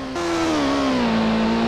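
Mitsubishi GTO LM race car engine in the PS1 Gran Turismo game revs up loudly and holds a steady, droning pitch for a couple of seconds, with no voices.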